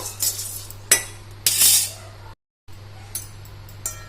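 Dry cumin seeds with moong, chana and urad dal roasting in a pan, giving sporadic clinks and scraping rattles, one louder sizzling-rustle burst, over a steady low hum with a brief dropout.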